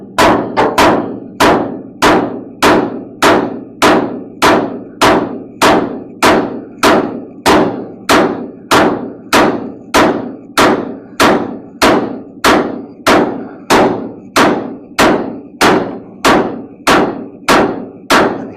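A big hammer pounds steel front suspension parts on a 1970 Challenger, dozens of loud, evenly spaced metallic blows repeating at a steady quick pace with no talk.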